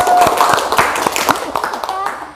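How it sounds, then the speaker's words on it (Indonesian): Schoolchildren in a classroom clap their hands together in a brief burst of sharp, close, uneven claps that thin out and fade, while voices talk over them. "Tepuk tangan anak-anak"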